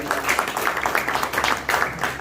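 A crowd at a Pakistani Independence Day literary gathering at a community centre in London breaks into dense, steady applause, with many hands clapping together at a moderate distance throughout.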